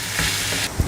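Tomatoes sauté in a hot pan while making a peanut and cluster bean gravy, giving a steady, close sizzle with stirring and a soft thump near the end.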